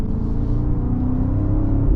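A 2024 BMW X5 M60i SUV engine drones and climbs under acceleration, a loud, steady low rumble heard from inside the cabin without talk.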